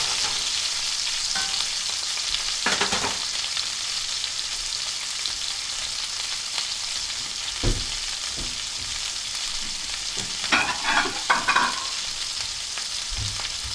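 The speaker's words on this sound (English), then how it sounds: "Still have the steak cooking over there" Steak cooks in a pan on a home stove with a continuous close sizzle and hiss, broken by a few short clattering bursts of stirring or utensil contact.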